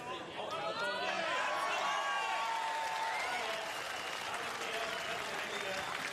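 Spectators at Brands Hatch applauding British Superbike 2014 champion Shaky Byrne: a steady, dense wash of clapping and crowd noise, with a voice talking over it.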